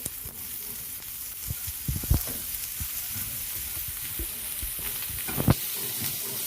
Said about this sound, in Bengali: এবার নারকেল কোড়াটা দিয়ে দেব।